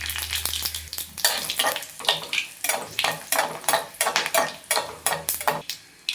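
Mustard seeds, cumin and dried red chillies crackle in hot oil, making a close, rhythmic run of sharp sizzling bursts and pops about twice a second.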